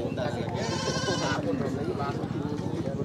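A goat lets out a wavering bleat, loud and close, over a busy murmur of voices and background chatter at a livestock market in Negros.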